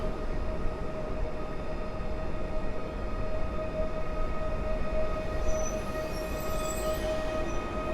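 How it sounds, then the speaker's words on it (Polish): EL 76010 electric multiple unit train rolling slowly up to a signal at Warszawa Gdańska station, a steady low rumble of wheels and motors with faint tonal whine, continuous and moderately near. "EL 76010 podjeżdża pod semafor."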